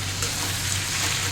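Hilsa curry with turmeric, salt and chilli powder fries in a pan, making a brief, steady hissing sizzle close by with no voices.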